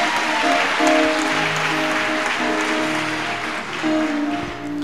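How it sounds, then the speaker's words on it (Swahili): Congregation applauding in a church, a dense, steady wash of many hands clapping throughout, with sustained musical tones running underneath. "Yesu makofi kabisa."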